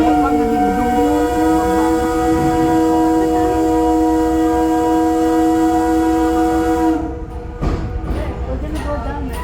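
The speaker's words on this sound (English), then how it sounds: "I'm going to sound that loud steam whistle." A loud, sustained boat steam whistle on Lake George blows steadily for several seconds with a rich harmonic tone, then cuts off, leaving rumbling machinery and some clatter.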